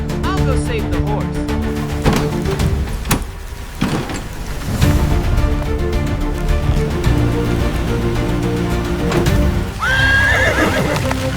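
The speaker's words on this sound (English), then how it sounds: "The horse is stuck!" A horse whinnies loudly and repeatedly up close in an animated scene with a truck, over hoof clip-clop, engine noise and background music.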